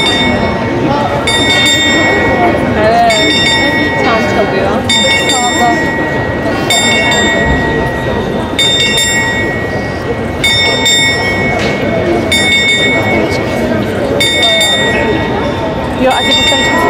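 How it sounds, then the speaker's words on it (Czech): A bell rung by the Death figure on the Prague astronomical clock sounds in steady, evenly spaced metallic strokes, ringing clearly above a dense, murmuring crowd with people talking nearby. "Smrtka, smrtka zvoní."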